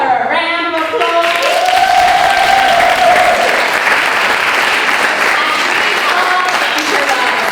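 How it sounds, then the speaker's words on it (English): Studio audience on a chat show applauding a performer, a loud, dense burst of clapping that holds steady for several seconds, with a voice speaking briefly at the start. "Let's give her a round of applause."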